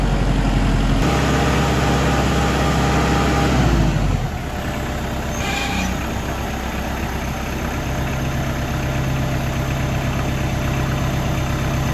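A Kubota tractor engine idles steadily on a cold day, a loud continuous low rumble that runs alone; a heavier, rougher stretch in the first few seconds settles into a smoother, even idle.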